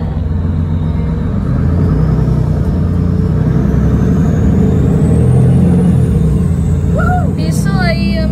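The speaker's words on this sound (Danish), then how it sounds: "Vi sidder i sådan en bus, der kan... En ledbus." Steady low road rumble and engine drone fill the cabin of an articulated bus in motion, loud and continuous throughout, with faint voices briefly rising near the end.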